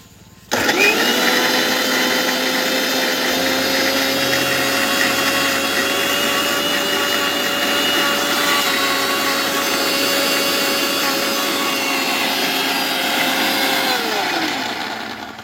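A kitchen blender jar full of tomato soup runs with the lid on, switching on with a thump into a steady, loud, high whirring motor hum that holds for about fourteen seconds before winding down.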